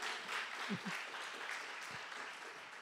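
A church congregation applauding during a Portuguese-language sermon, a soft, fairly distant wash of many people clapping, with a few low murmurs or voices briefly cutting through.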